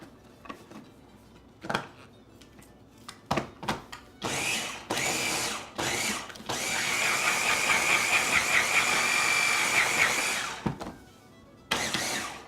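Butter streusel mixture with whiskey is pulsed in a food processor: several short motor bursts, then one long steady whirring run of a few seconds, ending with a final brief pulse.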